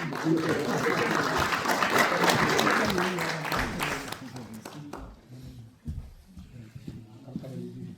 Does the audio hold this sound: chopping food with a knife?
no